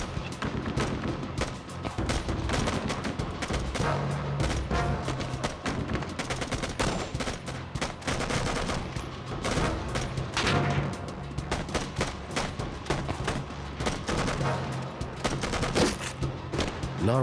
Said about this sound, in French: Les deux sauveteurs se retrouvent au milieu des tirs ennemis.